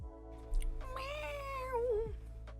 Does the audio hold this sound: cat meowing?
yes